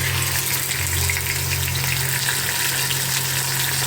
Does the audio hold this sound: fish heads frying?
yes